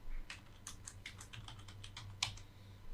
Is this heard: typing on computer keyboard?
yes